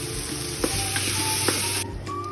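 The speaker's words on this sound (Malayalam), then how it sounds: "ഇതിലേക്ക് തക്കാളി ഇട്ട് കൊടുക്കാം എന്നിട്ട് ഇത് നന്നായിട്ട് വഴറ്റണേ" Tomatoes sizzle in a hot pan for a chicken curry, giving a steady close frying hiss broken by a few scraping stirs and small clicks.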